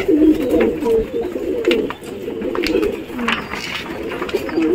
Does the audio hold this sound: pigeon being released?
yes